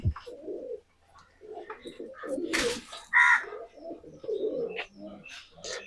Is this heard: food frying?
no